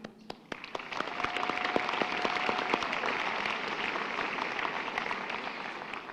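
Audience at a high school graduation ceremony in 2015 applauding, sparse claps quickly swelling into sustained, dense applause from a large crowd.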